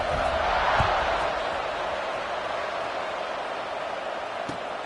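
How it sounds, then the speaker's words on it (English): A football stadium crowd buzzes after a UCLA touchdown, a steady broad roar of many distant voices that swells slightly early on and then holds level, with faint knocks and thuds beneath it. "this crowd is buzzing after that last score"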